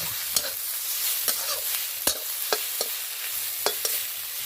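Mushrooms fry in oil with salt and turmeric, giving a steady sizzle. Scraping stirs break through it at irregular intervals, close up, with no talking.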